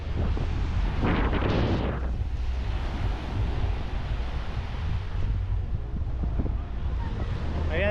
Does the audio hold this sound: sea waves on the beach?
yes